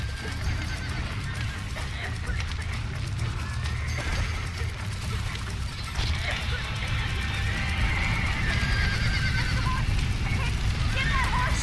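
Horse whinnies and clip-clopping hooves in the Red Dead Redemption video game, with steady game noise throughout and people talking over it.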